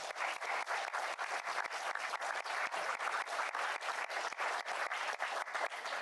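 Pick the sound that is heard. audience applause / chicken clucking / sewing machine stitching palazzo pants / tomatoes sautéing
audience applause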